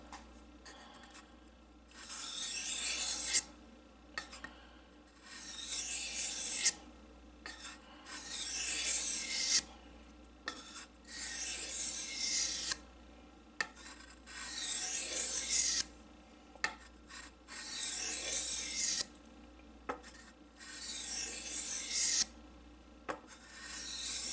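A knife is drawn across a 6,000 grit Japanese whetstone in about ten steady, rhythmic scraping strokes with brief pauses between them, close by and with no talk.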